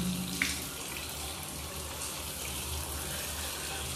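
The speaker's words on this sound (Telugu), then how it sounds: "సో ఇట్లా కూల్ వాటర్తో మనం ఫేస్ వాష్ చేయడం వల్ల" Cool tap water running steadily from a faucet as someone washes their face, a soft, even splashing stream with a faint brief click near the start.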